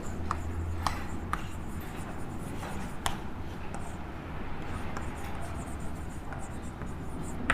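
Chalk or marker writing on a classroom board during a physics lesson, scattered scratchy strokes and taps in an irregular rhythm over a low room hum.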